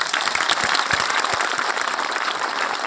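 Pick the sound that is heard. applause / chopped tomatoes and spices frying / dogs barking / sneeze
applause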